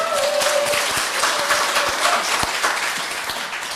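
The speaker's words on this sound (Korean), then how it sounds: "격려 박수를 부탁드리겠습니다." A congregation at a Sunday worship service applauds in encouragement, a dense, steady patter of many hands clapping that fades slightly toward the end.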